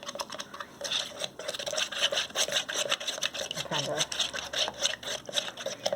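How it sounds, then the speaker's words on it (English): Scraping, rubbing strokes in a repeating rhythm as a stick stirs yarn dye and water around a container, close and moderately loud. "add just a little bit of water and stir it up"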